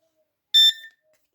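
A single short, sharp electronic beep from a WEIDA fishing bite alarm, high and clear, breaking an otherwise silent moment.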